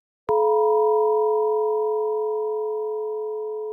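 A synthetic Risset drum generated in Audacity strikes once with a sharp attack, then rings on as a steady cluster of pure tones that slowly fades, alone and clean.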